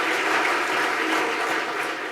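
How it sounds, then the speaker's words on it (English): A room of summit attendees gives a sustained round of applause, dense and steady from start to finish with no voices rising above it. "So let's give another huge round of applause to all the demoists."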